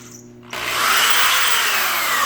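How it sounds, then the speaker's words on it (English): A power drill starts up and bores holes for kitchen cabinet handles, whining loud and close after a brief quiet start, steady with no talk. "Now we're going to drill our holes, folks, for the handles."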